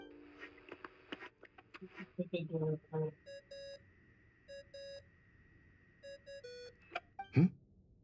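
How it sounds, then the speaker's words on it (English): A phone ringing tone in the Genshin Impact video game, heard as a repeating electronic beep pattern in short bursts, sounding alone after a few brief vocal sounds, with a louder sound near the end. "I really hate that ringing tone."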